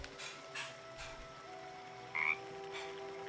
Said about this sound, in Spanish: Una rana.